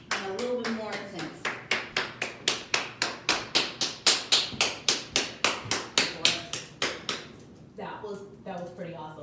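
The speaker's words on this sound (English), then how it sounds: "This time I'm going to add a little clap." Sharp hand claps ring out close in a fast, steady series of about twenty, used as a distraction during dog greeting-manners training with a corgi, with a voice talking briefly before and after the run.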